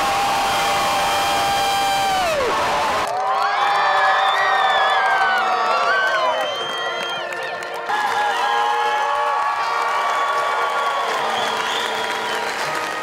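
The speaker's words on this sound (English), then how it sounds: "stand and throw your caps in the air and cheer" Graduates at a graduation ceremony cheer, whoop and clap loudly as they throw their caps in the air, with a dense roar of voices carrying on throughout.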